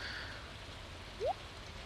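Steady soft rain in the Stardew Valley game, a continuous hiss of falling drops with a brief rising chirp partway through, no speech.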